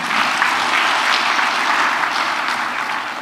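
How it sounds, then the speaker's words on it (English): Steady audience applause rings out at an annual banking institute dinner, a full even wash of clapping from a large room that holds for a few seconds without speech. "I think those riders deserve a round of applause."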